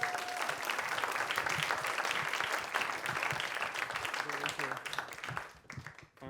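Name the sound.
audience applause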